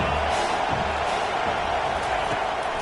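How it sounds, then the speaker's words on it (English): A home crowd roars in an American football video game, a loud continuous wash of cheering and crowd noise with occasional thuds, steady across the whole moment. "Man, this crowd really affecting the football game."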